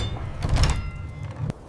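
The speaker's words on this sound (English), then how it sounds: "The door to the Beauchamp Tower cell closes." A heavy prison cell door in the Beauchamp Tower at the Tower of London swings shut with a dull, booming thud, followed by a sharp knock near the end.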